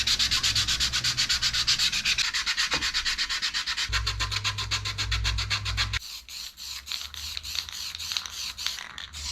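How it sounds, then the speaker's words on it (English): Sanding a 3D-printed plastic gauge pod for a boost gauge by hand, steady rhythmic rubbing strokes close up, a brief low hum joining partway, then lighter quicker scrapes continuing alone. "We do need to give it a quick sand"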